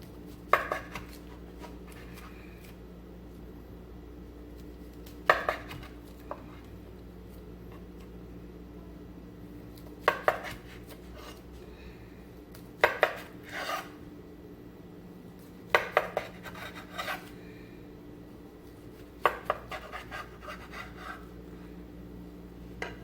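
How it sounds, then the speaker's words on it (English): A sharp knife slicing a vegan sushi roll into eight pieces on a board, brief crisp cutting strokes repeating at regular intervals of a few seconds against a quiet, steady background. "I usually slice it in 8 pieces."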